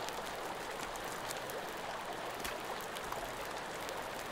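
Flowing water in the Sons of the Forest video game, a steady, soft rushing stream sound close by with no talk over it.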